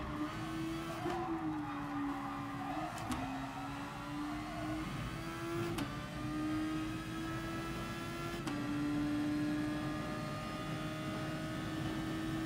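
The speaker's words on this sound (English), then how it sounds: "Trying to work out the gear shifting here to see what still gives good acceleration." A Super Formula race car in GT Sport at Suzuka drones with a steady high engine whine, and its pitch drops sharply at each gear shift before climbing again through several changes.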